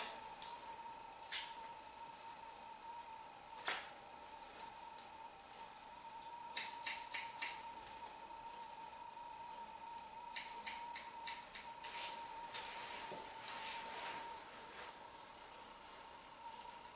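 Scissors snipping long hair during a women's haircut, scattered crisp cuts and short runs of quick snips over a steady background hum and hiss.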